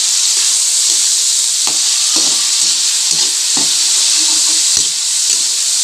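Meat fries in a pan for ginataang pakak, a loud, constant sizzle broken by several sharp scrapes and knocks as it is stirred at an uneven pace.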